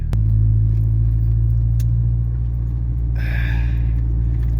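A car's engine and tires hum steadily from inside the cabin as it drives down the road, a loud constant low drone with a brief jingle of keys partway through.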